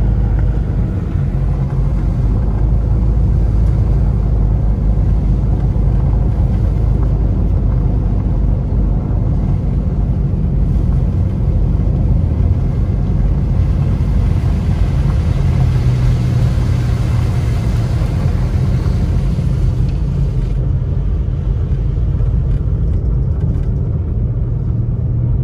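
A car drives along a snowy mountain road in Big Bear Valley, California, its engine rumbling steadily and loud throughout with a broad, continuous road and drive noise and no break.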